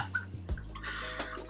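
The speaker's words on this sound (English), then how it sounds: "So now we are just going to pour in our margarita," A margarita is poured into a cup for a Cinco de Mayo drink, giving a brief liquid splash and trickle with a few small clinks and knocks, close and fairly quiet.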